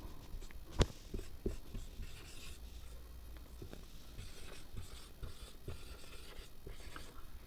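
Chalk or marker writes on a board during a classroom lesson on pH, faint scratchy strokes and taps in an irregular rhythm, quiet and close, with no talking.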